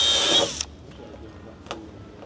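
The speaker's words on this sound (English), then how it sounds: "I hate drilling holes in airplanes." Power drill boring holes into the airframe of a Sling TSi kit aircraft under construction, a loud high whine in the opening half second that cuts off, followed by quieter shop noise and a brief second tool burst.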